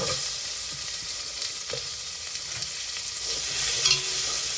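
Chopped onion sizzles steadily in rendered pork-crackling fat for Szeged goulash, a dense continuous frying hiss with a few soft clicks of stirring, close and alone.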